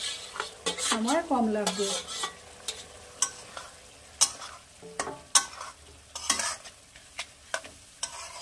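Vegetables and spices stir-fried in a pan for Rajasthani chana dal, with close scraping and clanking of a utensil stirring over a steady sizzle, while a voice speaks briefly near the start.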